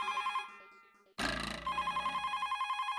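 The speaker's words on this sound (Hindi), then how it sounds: "रामजी काका का फोन आया वापस" A telephone rings in a steady repeating pattern of electronic trills, briefly interrupted by a louder burst of noise before the ringing resumes.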